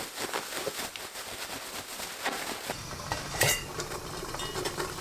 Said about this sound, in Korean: 봉지에 브로콜리, 날콩가루 2큰술, 밀가루 1큰술 넣고 흔들어 주세요